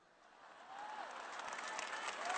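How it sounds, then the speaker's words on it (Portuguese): Applause from a crowd in an arena at a papal meeting with families swells from a quiet start into sustained clapping, growing louder and denser toward the end. "O povo ri, sorri e aplaude."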